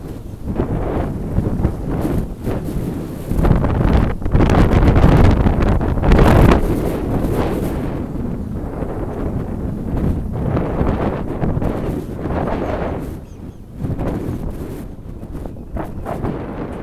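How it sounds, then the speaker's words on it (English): Strong wind buffeting the microphone on a boat, a loud continuous roar with gusts surging and easing, alone with no talk. "here comes the wind again."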